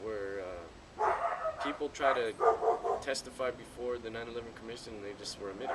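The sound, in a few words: dogs barking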